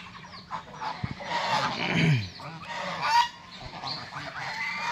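Domestic geese on a farm honk loudly and close, several overlapping blaring calls with a harsh rising honk near the middle, resting after coming up from a pond.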